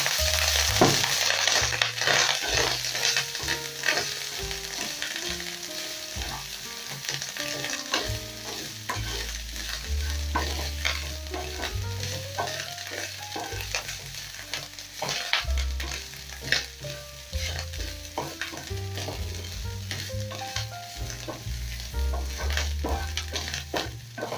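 Ginger and cooking oil frying in a pan for a matumbo (tripe) wet fry, with steady sizzling and repeated stirring scrapes, close and continuous, with no talking.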